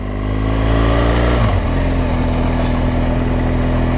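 A motorcycle engine hums steadily during a ride on a chilly day, its note dipping briefly as the revs change partway through, close and alone.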